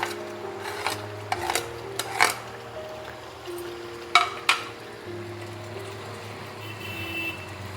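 Fried onions and spices being stirred into mutton in a pan for mutton monohari, a low scraping and rubbing with a few sharp clinks of the spoon against the pan, close and moderately quiet.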